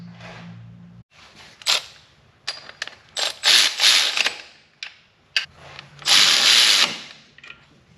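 Bolts on the engine block of a 1992 Pontiac Firebird Firehawk tribute are snugged down with a ratchet during an air-conditioning install, giving bursts of quick metallic clicking and rattling with short pauses between them, close up.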